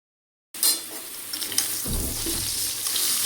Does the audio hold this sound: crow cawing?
no